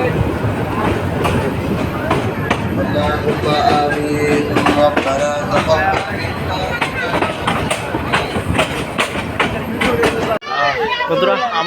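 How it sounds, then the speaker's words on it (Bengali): A train rolls into Chandpur station with loud, steady rumbling and clacking of wheels on rails, a person talking over the noise, and a brief cut near the end. "ট্রেনটা কিন্তু এখনই আবার এখান থেকে লোকো চেঞ্জ করে আবার চলে যাবে সেই চট্টগ্রামের উদ্দেশ্যে"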